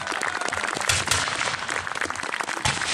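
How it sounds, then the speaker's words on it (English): Spectators clap for surviving sailors at a historical battle reenactment during Fort Henry Days, a short burst of outdoor applause with scattered sharp claps and a busy open-air background. "Let's hear a round of applause for the sailors who survived the fight."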